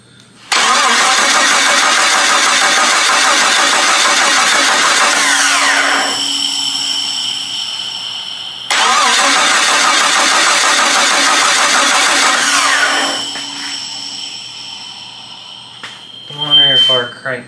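A rebuilt car engine with its exhaust right nearby cranks and roars loudly in two long bursts, each tailing off into a high whine, then a brief clatter near the end.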